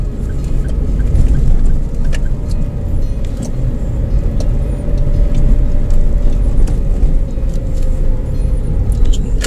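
A Daihatsu All New Terios climbing a steep hill road in second gear, its engine a loud, sustained droning rumble heard from inside the cabin, steady throughout with faint rattles and no talking.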